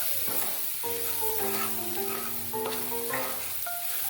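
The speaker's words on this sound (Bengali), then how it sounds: "রসুন বাটাটাও কিছুক্ষণ লাল করে ভেজে নেব।" Garlic paste fries in hot oil for an egg and soybean curry, a steady sizzle running throughout beneath continuous background music with sustained notes.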